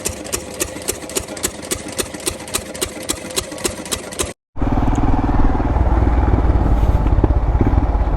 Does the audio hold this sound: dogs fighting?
no